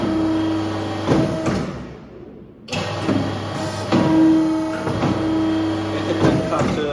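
An automatic paper cutter with a touch display runs through its cutting cycle, a loud mechanical hum with rhythmic clunks and motor tones, briefly stopping before starting again, while a voice speaks over it.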